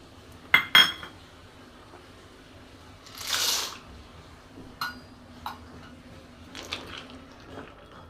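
Dry pasta is tipped into a pot of boiling water and stirred, giving sharp metallic clinks of utensil on pot, a brief rattling rush, and scattered lighter taps against a quiet background.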